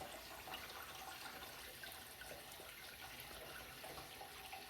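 A 1961 Case 1100 lowboy toilet flushes with a steady, rushing wash of water, continuous and fairly close throughout without talk.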